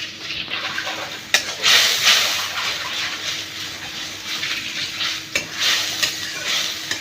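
Spice masala of salt, coriander, turmeric and chili powder being stirred and fried in a pan, a close, continuous sizzle with repeated scraping strokes of a spoon and a couple of sharp clacks against the pan.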